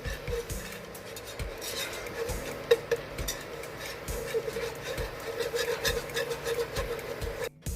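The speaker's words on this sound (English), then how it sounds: "mix it in with your whisk, you know, into the butter and stuff like that" A whisk scrapes and rubs steadily against a pan, working flour into melted butter for a roux, a soft continuous rasping with small metallic clinks.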